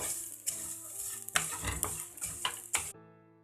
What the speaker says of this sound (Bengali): চিড়েটা আমার একদম ভাজা হয়ে গেছে, একদম মচমচে হয়ে গেছে।